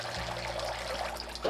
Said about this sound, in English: people can just turn it on and have the lovely sound of water